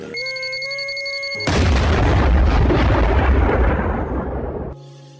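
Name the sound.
bomb explosion sound effect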